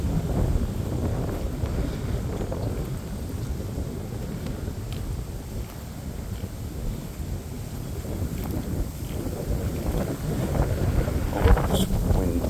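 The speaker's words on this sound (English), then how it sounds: "Hope this wind doesn't get too much worse." Steady wind gusting across a microphone on a lakeside hiking trail in a state park, a constant low roar with buffeting that swells toward the end, heard alone without talk.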